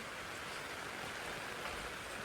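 Steady rain falls on a road during a trip through the Nainital hills, a faint, even hiss of drops with no voices.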